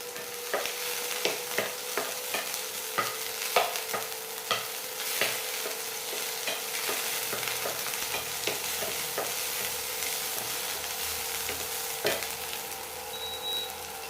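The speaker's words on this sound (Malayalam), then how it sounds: "എണ്ണ ചൂടായിട്ടുണ്ട്. ഈ സോസേജ് ഇട്ടിട്ട് ഒന്ന് ഫ്രൈ എടുക്കാം." Chicken sausages frying in hot oil, a dense steady sizzle with frequent crackles and spatula scrapes at an irregular rhythm, close up and fairly loud, no voices.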